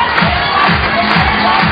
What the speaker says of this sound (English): Crowd getting right behind Akio now